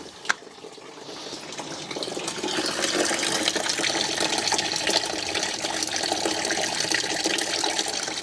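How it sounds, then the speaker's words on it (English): Coolant running out of a BMW 7 Series cooling system during a flush, a steady trickling, splashing stream that grows fuller after the expansion tank cap comes off, close by with no talk. "while the last few drops of coolant are dripping out"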